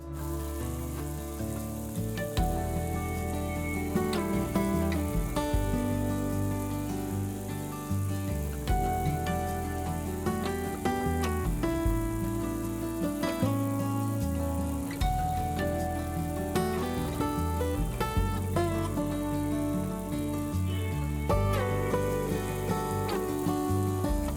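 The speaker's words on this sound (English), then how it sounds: "Let's get this into the frying pan." Bologna fries steadily in a hot pan of avocado oil, a continuous crackle and spatter that carries on throughout, with no voices heard.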